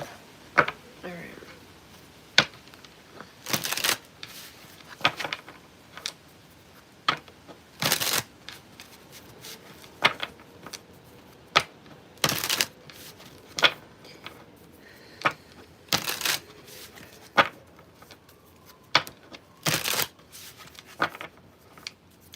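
Playing cards handled and shuffled at close range, a series of sharp riffling bursts and softer taps scattered irregularly through quiet stretches, with a voice speaking faintly now and then.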